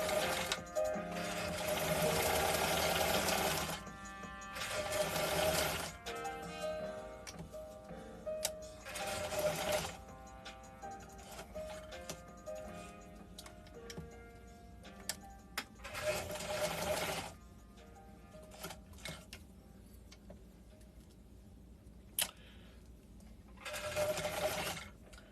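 A sewing machine whirs in repeated bursts while winding a bobbin, several runs of a few seconds each separated by quiet gaps with small clicks, close and moderately loud, no speech.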